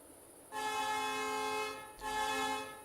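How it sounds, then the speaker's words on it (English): Train horn in the Train Life railway simulator game, a single shared horn sound for every train, sounding two loud sustained blasts, the first long and the second shorter after a brief dip. "we only have one horn sound for all the trains"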